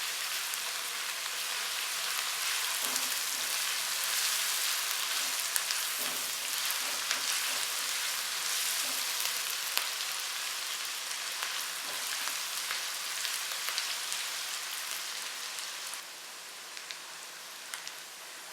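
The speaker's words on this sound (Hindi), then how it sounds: "अब इसमें ऐड करेंगे अदरक लहसुन पेस्ट। मज़ीद 1 मिनट के लिए फ्राई करेंगे।" Ginger garlic paste frying with beef in a pan, a steady, dense sizzle and crackle running throughout at an even level with no talking.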